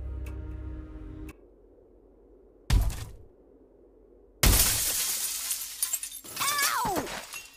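Window glass shattering in a mobile horror escape game, with a ticking clock, a sharp impact, then a loud burst of breaking glass and tinkling shards falling.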